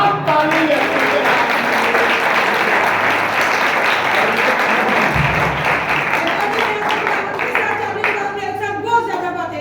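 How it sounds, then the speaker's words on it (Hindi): A church congregation at a Lent season sermon claps loudly and continuously, a dense sustained wash of applause that fills the room. "बड़ी जोर से तालियां बजाएं"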